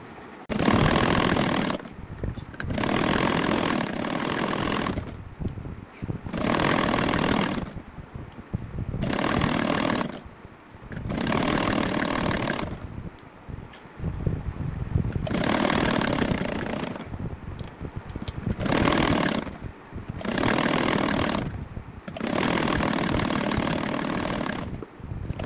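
Sewing machine stitching the neck strip of a blouse, heard up close and loud in about ten steady motor-driven runs, each separated by a brief pause.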